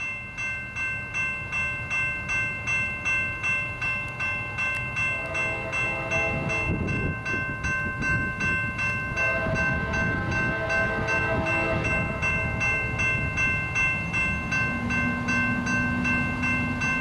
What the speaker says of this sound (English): we have Norfolk Southern 825 coal train or hopper train westbound here